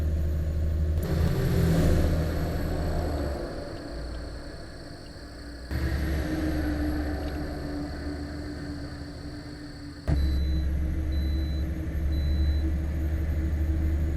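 A heavy truck in American Truck Simulator accelerates with a low engine rumble and drone that builds through the gears, broken by abrupt shifts in pitch and level, with no talking over it.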